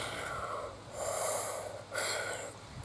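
A runner's breath blown out through a rounded mouth, two loud, forceful breathy exhales in quick succession, close and alone.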